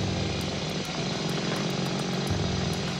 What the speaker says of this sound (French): Pendant 8 heures, ils creusent au marteau-piqueur.